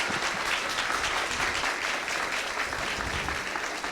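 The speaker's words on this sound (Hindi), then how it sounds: "जोरदार तालियां।" Enthusiastic audience applause after a mega play, a dense, steady wash of clapping that fills all four seconds at even loudness with no voices.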